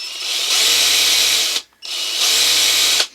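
WORKPRO mini buffer/sander running on high speed, two close, loud whirring bursts of about a second each, spinning up and stopping with a brief gap between them.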